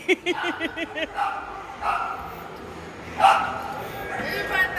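A dog yaps in a quick burst of short barks, followed by people talking at a moderate distance.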